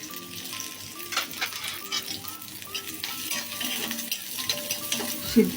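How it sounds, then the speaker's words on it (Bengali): Garlic and onion frying in oil in a pan, a steady close sizzle with repeated stirring scrapes and occasional utensil knocks, no voices. "অল্প কয়টা রসুন আর পেঁয়াজও ভেজে নিব"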